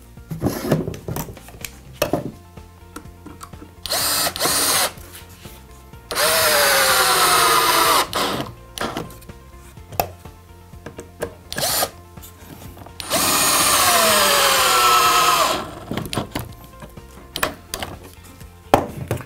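A power drill whines in two long sustained bursts, rising in pitch as it drives long 80mm screws into a pallet-wood workbench, with wooden knocks and clatter close by between runs.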